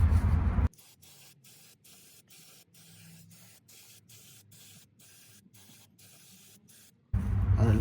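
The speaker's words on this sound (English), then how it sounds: "I'm just gonna spray our brake cleaner now." Brake cleaner sprayed onto the brakes of a Mitsubishi Eclipse during a pad and rotor job, a long continuous aerosol hiss in short pulsing bursts, close and steady, with louder handling noise at the start and end.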